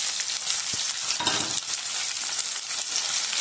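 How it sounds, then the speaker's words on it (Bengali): Chopped onions fry in a pan with a steady, bright sizzle and crackle from close by, broken by a few brief stirring scrapes and no voices. "পেঁয়াজ কুচি দিয়ে একটু ভেজে নেব পেঁয়াজটা।"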